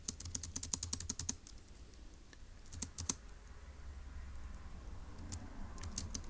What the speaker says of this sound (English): let's go ahead and type that up in our notes in section B